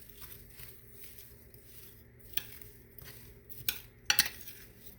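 White sugar being stirred into frozen blueberry cobbler ingredients in a dish, faint scraping and patter with a few sharp utensil clinks toward the end.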